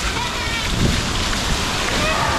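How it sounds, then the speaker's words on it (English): Water squirts and splashes steadily at a water park play area with slides and cargo nets, a continuous spraying hiss with a few heavier splatters, close by and fairly loud, with faint voices mixed in. "Look, you can squirt the people on the slide."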